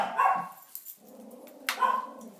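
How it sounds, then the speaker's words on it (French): Dogs barking indoors at a home, a few sharp, close barks and yips in two bursts with a short pause between them. "c'est mon mari qui rentre et mes chiens qui aboient."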